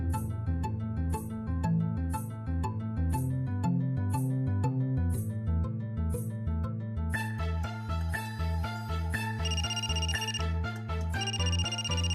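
A telephone rings in a Marathi TV serial scene with a melodic electronic ringtone, a repeating tune that plays continuously and clearly with no talking.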